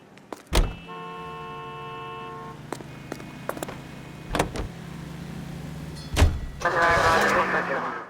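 A car in L.A. Noire, with door thuds, a low idling engine hum and a few sharp knocks, then a brief horn-like tone near the end, while someone speaks over it.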